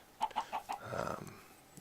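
Minecraft chicken clucks in a game: four quick, evenly spaced clucks followed by a longer, softer clucking phrase, quiet and alone with no talk.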